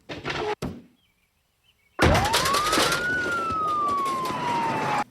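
Ambulance siren in a film, cutting in abruptly after a couple of brief thuds and a short silence, then a loud wail rising and slowly falling in pitch amid clattering noise.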